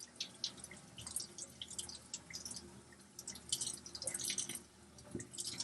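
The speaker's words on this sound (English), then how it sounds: "I can turn the water on." Water from a laundry sink tap splashes and drips onto a rechargeable LED flashlight with a lantern, a quiet steady patter with bright irregular droplet hits and no talking.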